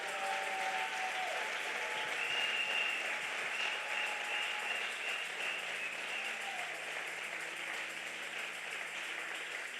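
Sustained applause from a church congregation during a testimony service, steady dense clapping filling the whole stretch with faint voices mixed in.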